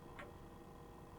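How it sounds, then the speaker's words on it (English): Clocks tick inside a quiet mansion foyer in the Play by Heart video game, two faint soft ticks about a second apart over a low hushed background. "A constant tick, tick, tick"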